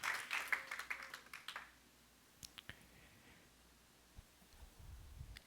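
A church congregation claps for the Lord during a Spanish-language sermon, a burst of dense hand claps loudest at the start and fading within about two seconds, followed by a few scattered sharp claps.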